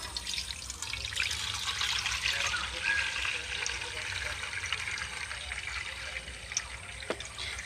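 Starchy water from grated raw potato is poured slowly from one basin into another, a soft steady trickle and splash, fairly faint and continuous throughout.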